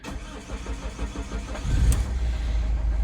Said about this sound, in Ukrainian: Машина заводиться і так само працює.